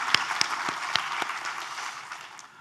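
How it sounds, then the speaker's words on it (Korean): A church congregation applauds after a Bible reading, producing dense, steady clapping with a few sharp individual claps near the start. The applause thins and fades toward the end. "우리 하나님께 감사와 영광의 박수를 드리겠습니다"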